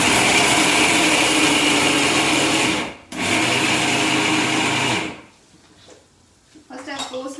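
A mixer grinder coarsely crushes coconut and green chilies with a loud, steady whirring roar that runs about five seconds, dips once briefly, then cuts off; faint speech follows near the end.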